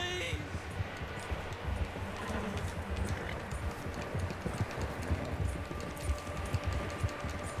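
Horse hooves clip-clop at a steady gallop in Red Dead Redemption 2, a continuous quick rhythmic patter at moderate distance, with faint game ambience underneath and a brief voice near the start.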